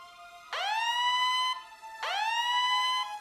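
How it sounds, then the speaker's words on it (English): Two rising electronic siren wails sound in a video game, each sweeping up sharply and then holding a steady tone for about a second, separated by a short gap. "That's the alarm. Guess the Imperials have popped up."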